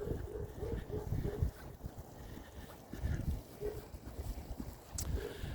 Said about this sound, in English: That wind is still a little cold